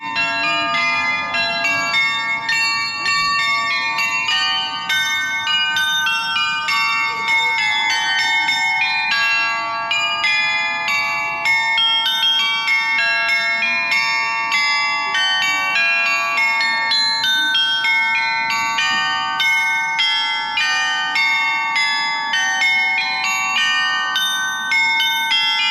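Bells ring continuously and loudly at an Amsterdam event, a dense ringing peal with many overlapping tones that carries steadily throughout, with no talk over it.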